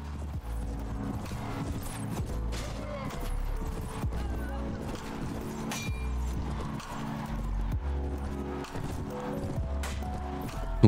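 A horse gallops in the medieval video game Prophesy of Pendor, with steady rhythmic hoofbeats running throughout under a busy layer of battle noise and a low droning music bed.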